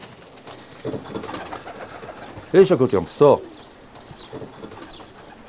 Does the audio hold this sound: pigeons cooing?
yes